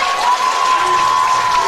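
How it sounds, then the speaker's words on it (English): Crowd of Byron baseball fans on their feet at a section championship game in Red Wing, applauding and cheering as their batter fouls a ball off, a loud, continuous wash of clapping and crowd noise. "Byron fans on their feet, cheering on Hubert here as he fouls that ball off."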